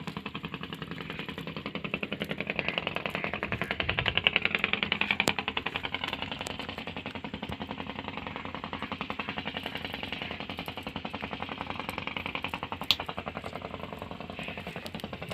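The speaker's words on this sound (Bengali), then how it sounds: "যে বড় একটা মেশিন ডুঙ্গি আসতেছে" Large motorized wooden fishing boat engine: continuous rapid low chugging rattle, steady and moderately distant, with light clatter over it and no speech.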